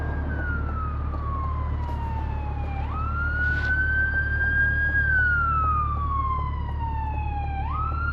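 Emergency sirens from a passing ambulance and fire truck wail in long rising and falling sweeps, loud and steady against a constant low road rumble, with a second siren layering in near the end.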